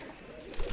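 Pigeons coo on a rooftop loft setup in Multan, soft low calls that grow louder and more crowded toward the end of the short stretch, with a faint hiss of background noise.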